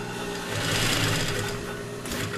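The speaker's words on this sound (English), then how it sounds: "This is my mother's industrial sewing machine." An industrial sewing machine runs steadily and loudly nearby, a continuous whirring drone that swells in the middle and carries a brief higher mechanical whine near the end, with no voices.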